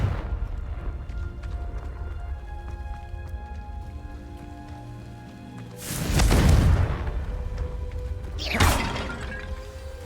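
A Confringo spell in Hogwarts Legacy erupts in two blasts, a loud booming burst followed shortly by a smaller one, over a steady game ambience without speech.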